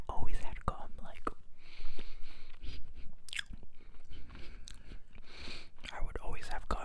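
Someone chews gum close to the microphone in ASMR style, with wet smacking and clicking mouth sounds between soft whispering throughout.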